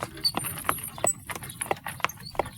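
Horse hooves clip-clop in a steady, even rhythm, fairly close and clear, as a horse-drawn carriage draws nearer, with a faint jangle now and then.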